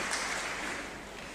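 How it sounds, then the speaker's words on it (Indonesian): Brief, dense applause from a church congregation, a continuous wash of clapping with no talk over it, fading slightly toward the end. "Tepuk tangan dong buat Tuhan Yesus."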